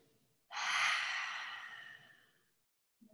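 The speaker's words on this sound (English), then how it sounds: "exhale out your mouth. Making the sound of the ocean." A single long, breathy exhale through the mouth, rushing and soft like ocean waves, fading out over about two seconds.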